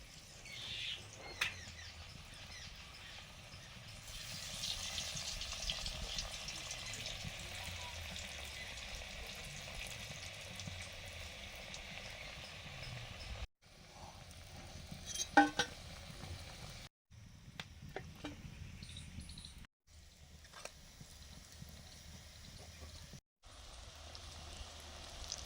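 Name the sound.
chickpea lentil dhoka frying in hot oil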